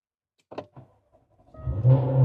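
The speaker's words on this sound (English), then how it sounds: "Car fires right up." A 2017 Jaguar F-Type starts with a push-button start, a few soft clicks and a brief whir, then the engine catches and swells into a loud, rising rumble at the end.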